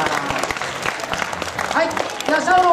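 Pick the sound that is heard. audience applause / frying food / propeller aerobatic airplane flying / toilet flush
audience applause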